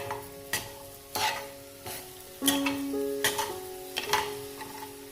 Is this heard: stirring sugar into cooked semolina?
yes